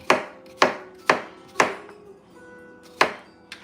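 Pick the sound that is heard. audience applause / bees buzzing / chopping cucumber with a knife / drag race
chopping cucumber with a knife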